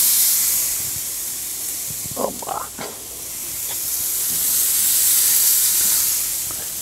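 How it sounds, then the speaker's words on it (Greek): Large beef steaks sizzle on a hot stainless-steel gas grill, a steady loud hiss and crackle that swells and dips, with a few brief clinks of a utensil near the start. "Είναι ζεστές οι σχάρες μου. Ξεκινάω το ψήσιμο ευθύς αμέσως."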